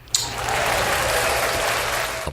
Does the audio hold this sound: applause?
yes